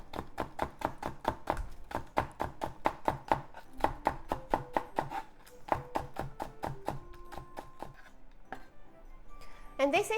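A kitchen knife thinly slices green onion on a cutting board in rapid, evenly spaced taps that slow and turn irregular near the end, close and fairly quiet, with a few faint clinks of dishes.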